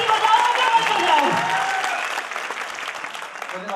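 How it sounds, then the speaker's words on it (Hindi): Steady applause from a crowd at a January 26 celebration event, sustained and fairly loud throughout, with a few voices mixed in. "तालियां बजाओ तो ऐसी बजाओ या मत बजाओ"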